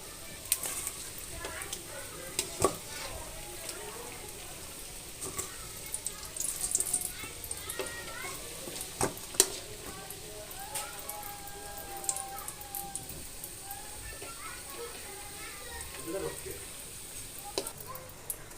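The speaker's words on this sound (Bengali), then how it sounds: "অলরেডি পাটিস ভাজার জন্য তেলে দিয়ে দিচ্ছি" Homemade patties frying in oil over a low flame give a faint, steady sizzle with scattered small crackles throughout, fairly quiet and distant.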